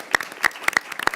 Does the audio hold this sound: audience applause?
yes